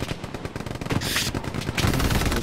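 Rapid automatic gunfire in a hardcore military first-person shooter video game: dense, loud machine-gun bursts rattle continuously, with heavy shots and explosive cracks layered throughout.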